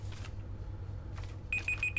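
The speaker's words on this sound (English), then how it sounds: "That is the timer. And that means 20 minutes is up, annoyingly." A timer alarm sounds near the end as a short run of bright, steady electronic beeps, preceded by faint background hum and muffled noise.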